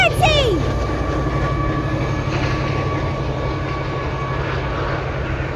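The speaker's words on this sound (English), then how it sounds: "this Class 70 pulling a container train" A British Rail Class 70 diesel locomotive hauling a container train rumbles past with a steady loud engine drone and rolling wagon noise, and a brief high squeal near the start.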